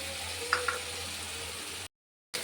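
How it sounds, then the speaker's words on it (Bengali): Masala of cumin, turmeric and Kashmiri chilli sizzles steadily in hot oil after its rinse water goes in, a soft continuous frying hiss with a couple of small pops, then a brief silence. "এবার এটা দিয়ে একটু কষিয়ে নেবো। মশলা ধোয়া জলটা দিয়ে দিলাম।"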